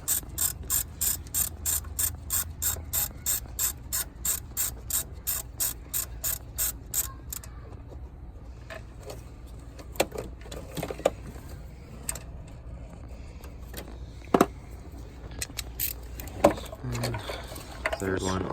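A ratchet wrench loosens bolts on a Chevy/GM 3.1 engine during a head gasket job, with a fast, steady run of close metallic clicks that stops halfway, followed by scattered clanks and tool handling.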